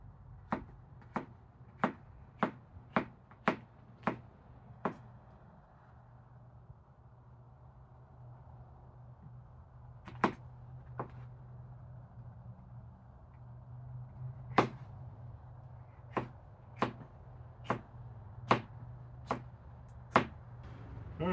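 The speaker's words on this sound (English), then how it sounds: "cut them in half, and just cut them into ribbons." Knife slicing sweet peppers into ribbons on a cutting board, a series of sharp evenly spaced chops, first a quick run, then a pause, then more spread-out cuts over a constant low background hum.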